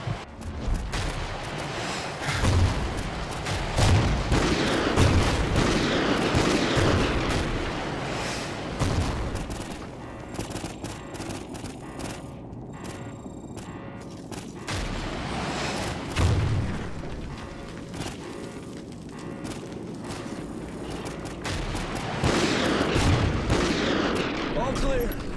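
Dense gunfire and booming explosions fill a battle scene in the video game Call of Duty: Ghosts, with repeated loud blasts and rattling shots throughout and shouting voices over the chaos.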